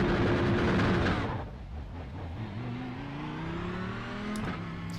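An Audi GT3 race car in the iRacing simulator, the engine roaring loudly at first, then dropping off as it shifts to a lower, steady drone that climbs gradually in pitch while accelerating.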